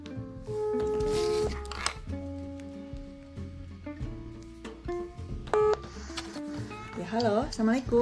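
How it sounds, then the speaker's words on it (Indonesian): A telephone being dialed to call a guest for a science podcast, with tonal dialing beeps and ringing tones over music in the background, ending in a clear series of rising dial tones before the call connects. "Oke, kita akan telepon beliau ya."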